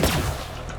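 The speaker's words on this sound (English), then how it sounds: "No delay in the firing of this gun either, which is pretty nice." A cryogenic gun fires in Borderlands 3, giving a short loud burst with a sharp onset that quickly decays into a dull rumbling tail, heard alone.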